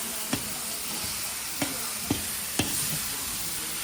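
Brinjal and chili frying in a pot, stirred by hand: a continuous soft sizzle with four sharp scraping knocks of the spoon at irregular intervals, close and fairly quiet.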